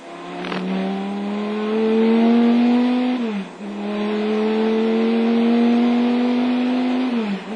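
A Chrysler Viper race car, number 51 at Le Mans, braking for the Mulsanne corner then accelerating flat out, its engine a loud, close, steady roar climbing through two long pulls with a brief dip between gears.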